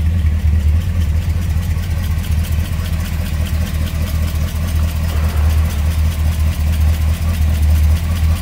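A loud, deep engine of a 1932 Ford pickup street rod idles steadily up close with a rough, throbbing low rumble, no revving.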